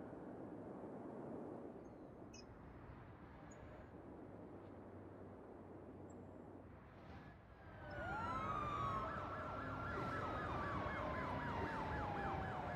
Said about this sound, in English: Is it ambulances?